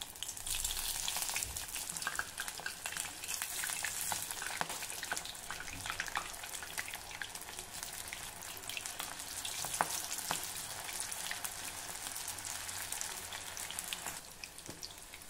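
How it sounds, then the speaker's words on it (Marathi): Sweet corn bhaji, pressed by hand and dropped into hot oil, fry with a dense, even crackling sizzle like rain on a surface, holding at a constant level throughout with no voice. "आपल्याला ही भजी अशी बोटामध्ये घट्ट दाबून मग तेलात सोडायची आहे"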